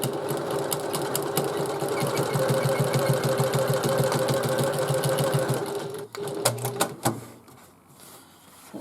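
A sewing machine top-stitches a bag lining seam, running loud and steady in a fast mechanical rhythm for about six seconds before stopping, followed by a few brief handling clunks and quieter fabric sounds.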